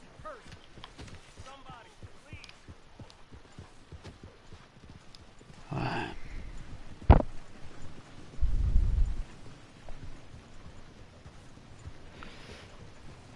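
In Red Dead Redemption 2, a horse's hooves clip-clop in a steady rhythm, with a couple of louder thuds and snorting bursts midway, all fairly quiet and close.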